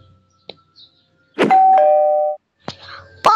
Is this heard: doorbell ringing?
yes